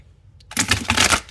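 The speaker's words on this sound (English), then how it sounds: "let's give this one a good shuffle" A Halloween-themed tarot deck being shuffled by hand: a brief riffle of cards after a short quiet moment, crisp close-up rapid flutter lasting under a second.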